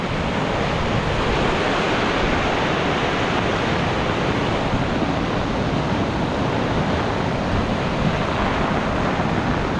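High, swollen river rushes during a Signal No. 3 typhoon with heavy rain and strong wind, a loud, continuous broadband roar of water steady throughout with no voices.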